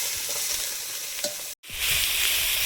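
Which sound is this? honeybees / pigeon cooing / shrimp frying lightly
shrimp frying lightly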